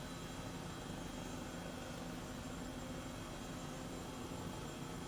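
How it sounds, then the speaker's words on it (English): An Airbus H135 helicopter flies in Microsoft Flight Simulator in VR, heard as a steady, faint, unbroken engine and rotor drone that holds even for the whole stretch without talk. "In this H135 chopper."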